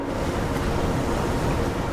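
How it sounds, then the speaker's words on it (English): Surf surges in a steady, loud roar along the shore of Koh Kham island off Thailand, the crash of water filling the whole moment with no pauses and no voices. "Then the waves swallowed her."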